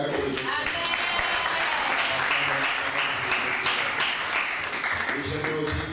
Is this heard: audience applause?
yes